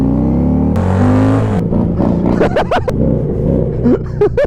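Harley motorcycles pull away from a green light, their engines rumbling and revving loud and close as the throttle rises. The roar shifts through climbing pitch sweeps and dips as the bikes accelerate.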